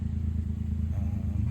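A 1996 Suzuki Jimny with a K6A turbo engine and manual gearbox idles at cold start, a steady low rumble with a slightly raised idle, heard close through an open door.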